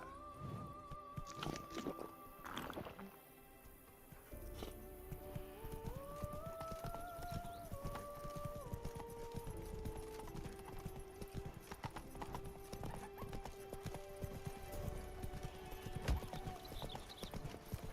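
Horse hooves clip-clop steadily throughout an 18-second stretch of a medieval fantasy video game, moderately loud and close, with a brief whinny and a flowing musical score running underneath.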